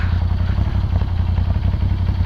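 A Moto Guzzi V7 motorcycle engine rumbles steadily and close by, a low throbbing mechanical drone with faint clatter and no break.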